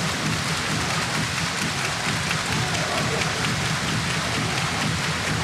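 A packed arena crowd roars at a 2013 Hawaii versus UCLA women's college volleyball match, a dense, steady wash of cheering and noise that holds throughout without a break.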